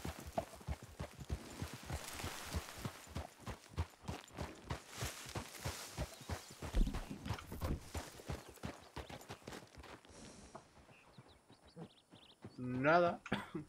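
Rapid, steady clip-clop of horse hooves trotting in the video game RedM, dense and rhythmic, with a brief whinny-like call near the end and faint talk underneath.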